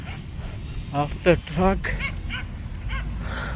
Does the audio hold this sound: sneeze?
no